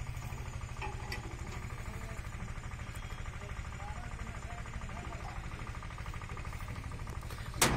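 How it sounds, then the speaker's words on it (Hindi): A Swaraj 960 tractor, fitted with a mini combine harvester in Kushinagar, Uttar Pradesh, runs at a steady idle with a rapid, even low diesel throb that carries on throughout at moderate loudness. "ये ट्रैक्टर 960 स्वराज का गाड़ी है"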